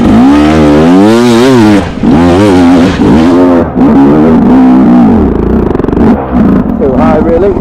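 A dirt bike engine is pulled in third gear on a slippery, rutted track, its revs rising and falling in loud, close sweeps, with a voice mixed in over it.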